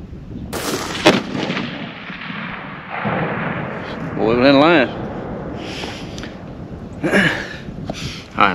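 A 6.5 rifle fires at a 500-yard target over a bean field, one sharp close report followed by a rolling outdoor echo, with people talking and exclaiming around it.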